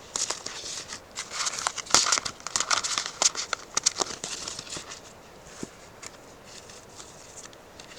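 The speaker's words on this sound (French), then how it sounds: "je remballe les cartes Lenormand" Lenormand cards are gathered and packed away at close range, with a run of crinkly rustles and sharp little handling clicks that grow busy in the middle and then fade to quieter shuffling.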